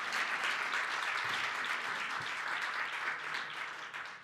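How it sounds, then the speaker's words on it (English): Sustained applause from a conference audience at a regional health meeting in southern Africa, a dense even patter of clapping lasting the whole stretch and easing slightly near the end. "I'm begging for a big round of applause for Dr. Michael Ntamati,"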